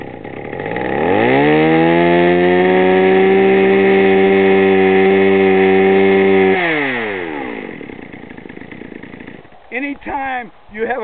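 A two-stroke chainsaw fires up and screams at full throttle, a loud close whine rising and holding for several seconds before dropping back to idle, followed by brief talk.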